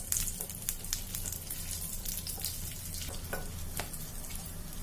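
Bay leaf, cumin and garam masala crackle and sizzle in hot oil for prawn malai curry, a steady close frying hiss with sharp popping spits and a low stove rumble beneath.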